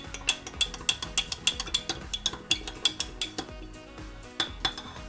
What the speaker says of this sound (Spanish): Vamos a remover un poquito.